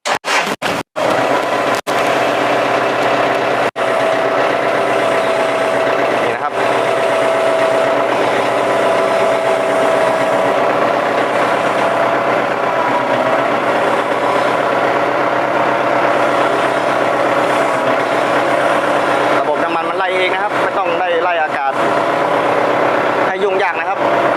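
Kubota L4708 tractor engine running steadily at idle, a loud continuous drone close by, with a few sharp clicks at the start and someone speaking over it near the end.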